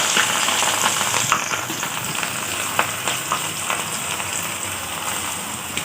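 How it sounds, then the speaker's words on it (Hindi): Eight medium chopped onions hit about 200 grams of hot oil and fry with a loud, continuous crackling sizzle, scattered sharper pops spattering through the hiss, close and steady. "देखिए ये तेल गरम हो गया हमारा, 200 ग्राम तेल है ये। इसमें हमने प्याज चॉप करी हुई, जो प्याज हमने चॉप करी थी वो डाल दी।"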